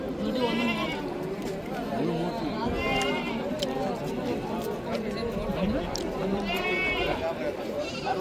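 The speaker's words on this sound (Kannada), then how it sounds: "ಕುರಿ" Several sheep bleat repeatedly at a sheep and goat market in Haveri, Karnataka, wavering cries rising over a constant busy din of animals and people chattering nearby.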